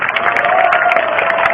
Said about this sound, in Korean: 우리 대학생 두 분께 다시 한번 박수 부탁드립니다